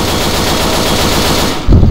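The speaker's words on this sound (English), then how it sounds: "Keep shooting in front of you." Sustained rapid machine-gun fire in the Left 4 Dead 2 zombie shooter game, loud and continuous, ending in a heavier burst.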